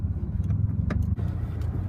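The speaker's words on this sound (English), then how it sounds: "I can feel the car catching and grabbing now" A manual transmission car pulls away from a stop, its engine giving a steady low rumble close by as the clutch catches, with a brief dip and slight surge as it moves off, with no talking.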